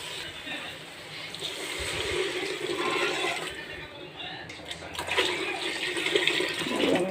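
Water pours steadily into a cooking pot for ration rice, a continuous splashing stream heard close up for several seconds, shifting slightly in pitch as the vessel fills.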